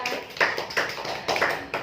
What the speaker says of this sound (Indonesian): Tepuk tangan dulu dong buat kalian semua.